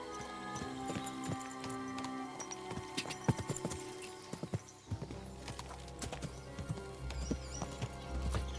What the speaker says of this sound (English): Oh, I can pet the horse!